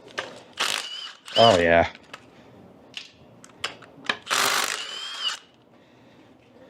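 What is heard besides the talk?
small power tool breaking flywheel bolts on a car engine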